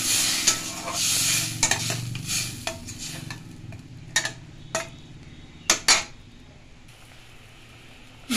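Tamarind water is poured into a hot pan for crab curry and sizzles, followed by a spoon scraping and clinking against the pan in irregular strokes. The sounds are close and moderately loud, with no talking.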